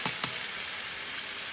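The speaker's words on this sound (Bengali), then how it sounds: "এই যে করছি, মশলাটাকে কষিয়ে নিলাম, মাংসটা দিয়ে দিলাম, এর মাংসটা কষিয়ে নেব।" Small pieces of chicken meat stir-fried with spices in a pan, giving a continuous soft sizzling hiss with a couple of faint scraping stirs near the start.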